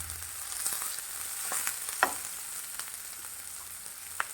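Onion spread in a hot pan sizzles and crackles quietly throughout with no voices, with a few louder scrape-like pops from stirring.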